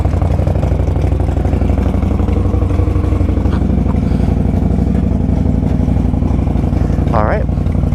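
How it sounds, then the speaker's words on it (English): A 2018 Indian Scout Bobber motorcycle rumbles loud and close with a throbbing, pulsing engine note while being ridden, steady throughout, and a voice briefly speaks over it. "let's take this bike out and see what it does"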